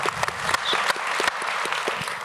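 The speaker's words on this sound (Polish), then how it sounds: "prosimy o brawa" A seated audience at a book presentation applauds steadily, a dense patter of many hands with a few sharper individual claps standing out, moderately loud and close throughout.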